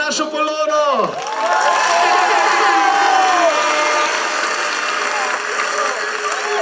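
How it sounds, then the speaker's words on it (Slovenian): Audience at a lively Slovenian regional reportage event bursting into cheering and shouting that swells into sustained applause, loud and close, with a voice at the start. "En aplavz za našo Polono!"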